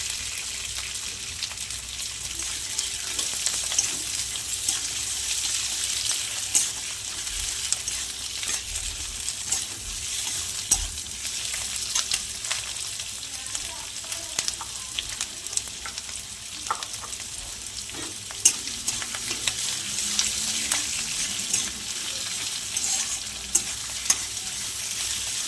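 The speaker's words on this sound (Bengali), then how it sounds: "এটা হালকা করে একটু নেড়ে ছেড়ে নেবো।" Soya chilli fries and is stirred in a pan, a steady crackling sizzle with scattered scrapes and clicks of a spoon moving the food around.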